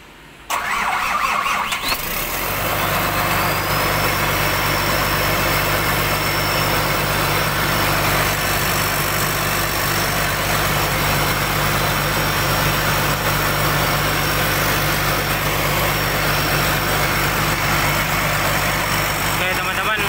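A Caterpillar excavator diesel engine cranks, starts and settles into a loud, steady idle with a deep rumbling hum and a faint high whine, continuing unbroken to the end.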